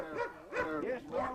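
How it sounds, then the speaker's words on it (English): Several dogs bark and yelp out on a foggy countryside walk, three rising, whiny barks coming in a steady rhythm at moderate distance, with voices talking nearby. "Even with the noise of the dogs"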